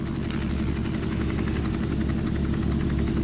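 Robinson R44 helicopter engine idling in X-Plane 11, a steady dense low rumble with a fast rotor beat throughout, close and loud, with no talk over it.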